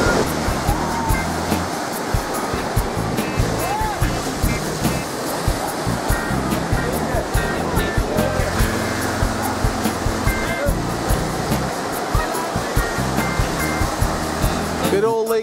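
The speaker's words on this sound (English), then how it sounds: "Good old Lake Erie, rougher than hell." Rough waves on the Lake Erie shore crash and wash in a constant loud roar, with frequent surges of surf and wind noise close by.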